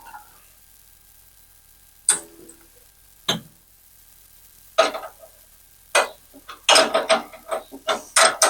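A ratchet tightens the lower radiator hose clamps during a fan replacement, giving scattered single clicks at first and then a quick run of close ratcheting clicks near the end.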